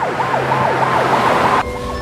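Ambulance siren rapidly sweeping up and down in a fast repeating wail over road noise, fairly loud and close, then cutting off abruptly into a quieter steady tone near the end.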